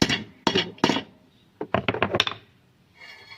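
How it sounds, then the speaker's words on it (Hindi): A hammer strikes the loose metal rod of a grass cutting machine to straighten it, giving a set of sharp, ringing metallic blows in two clusters, close and loud, with quiet gaps between. "बाज़ औक़ात ये रॉड लूज़ हो जाती है, तो इसको हथौड़े से जो है वो सीधा कर लेते हैं"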